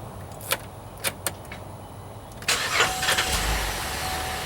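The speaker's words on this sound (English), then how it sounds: "If everything worked right, this key should now start the car." Keys click in the ignition of a GM SUV such as a Traverse, Acadia or Enclave, then the engine cranks and starts with a newly programmed key and settles into a quiet idle.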